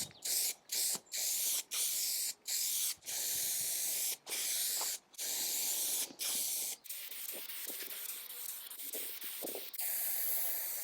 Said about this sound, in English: To attach the veneer to the substrate, I used spray contact adhesive